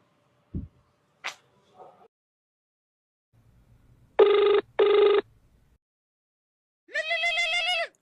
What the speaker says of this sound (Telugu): మళ్ళీ ఫోన్ చేస్తున్నాడే.